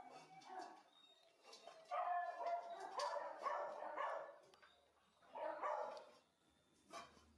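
A litter of seven-week-old working beagle puppies barks and yips in bursts at close range, with brief whimpers and quieter gaps between the louder clusters of barking.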